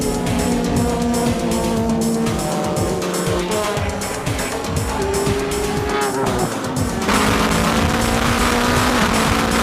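GT300-class race cars at a JGTC round, led by a Mazda RX-7, roar past close together with layered engine notes, gear changes and brief tyre squeal. Loud and continuous throughout.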